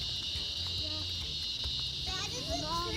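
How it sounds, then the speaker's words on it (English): Summer cicadas drone in a steady, high-pitched buzz that runs through the whole stretch, with children's voices and other faint outdoor activity mixed in near a train stop. "You know, it's summertime when you hear the cicadas."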